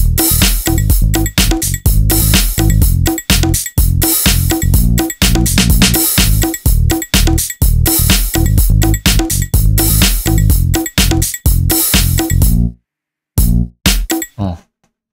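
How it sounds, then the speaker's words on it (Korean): Funky synth bass line in a MIDI pop production in the style of TXT's 'Do It Like That', bouncing over a tight drum rhythm, loud and continuous, ending in a stop-time break and a short bass slide. "이런 식으로 이제 베이스가 흥겹게 연주를 하고 있죠."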